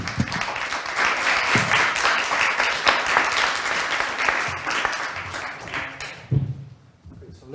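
Audience applause for conference panelists, a dense roar of clapping from a room of people that holds steady, then thins and fades toward the end, with faint voices mixed in.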